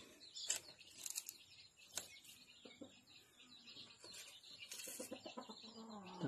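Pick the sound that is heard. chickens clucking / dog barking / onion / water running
chickens clucking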